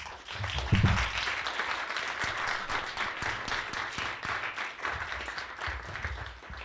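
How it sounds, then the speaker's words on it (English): Sustained audience applause fills a room at a book event, steady clapping from a crowd continuing throughout at moderate loudness, with no talking over it. "Another round of applause."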